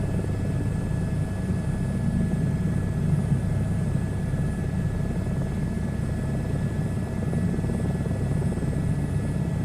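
Helicopter in the SU2 Beta VR flight game flying a steady cruise, a continuous loud rotor and engine drone with low thumping, unbroken and alone with no talk.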